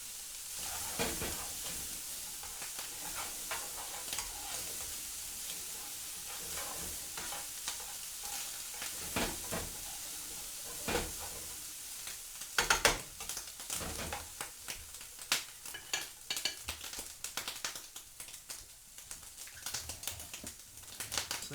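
A quiche Lorraine mixture cooking in a fry pan, making a faint continuous sizzle with soft stirring and scraping that grows more uneven and clattery in the second half.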